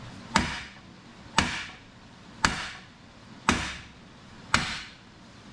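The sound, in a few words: hammering on a mini excavator thumb build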